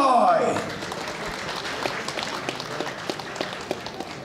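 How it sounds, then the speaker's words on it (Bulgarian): At a K1 kickboxing championship event, the arena crowd applauds a fighter with a broad wash of clapping and cheering, under an announcer's amplified voice that fades at the start. "Моля вашите аплодисменти за Виктор Кривой!"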